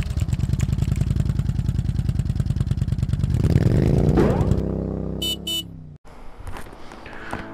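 A 2007 Harley Ultra Classic motorcycle idles with a steady low, pulsing rumble, then revs and pulls away, the engine note rising as it departs, followed by a couple of short electronic beeps and quieter clatter.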